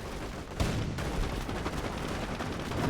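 Two bazookas firing in a Company of Heroes 1 battle, a sharp launch blast about half a second in, then a dense wash of gunfire and explosions.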